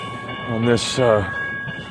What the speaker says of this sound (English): So here comes the train.